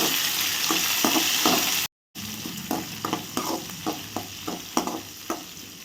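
Steady sizzling of onions and chillies frying in a pan until golden, with repeated rhythmic scraping strokes of stirring; a brief silent gap partway through.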